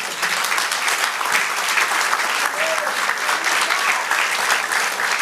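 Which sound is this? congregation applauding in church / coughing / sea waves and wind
congregation applauding in church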